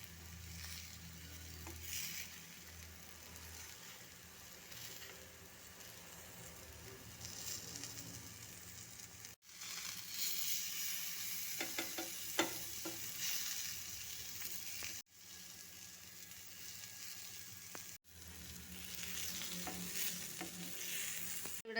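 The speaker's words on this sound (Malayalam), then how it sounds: "ഇനി ഇത് സ്റ്റൗവിലോട്ട് വെച്ച് മീഡിയം ഫ്ലെയിമിൽ പൊരിച്ചെടുക്കാം." Small fish fry on medium flame in a pan with no oil, with a steady crackling sizzle broken by repeated scraping stirs and brief pauses between bursts.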